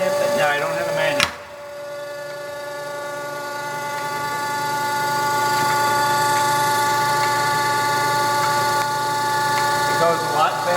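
A K.O. Lee 7 x 14 inch hydraulic feed surface grinder runs with a steady humming motor whine and rich mechanical drone, a sharp knock near the start and a slight swell as it continues, with a voice faintly underneath.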